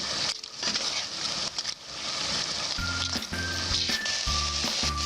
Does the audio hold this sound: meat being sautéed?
yes